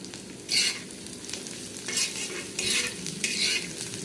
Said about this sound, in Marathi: तेलावर असा लसूण कढीपत्ता आणि कांदा परतून घ्यायचा